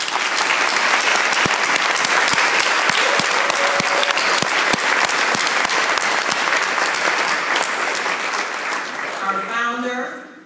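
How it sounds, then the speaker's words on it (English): Sustained applause from an audience honoring past national presidents of FEW, loud and dense for nearly ten seconds before a voice begins speaking at the end. "Please give a round of applause for all of our past national presidents"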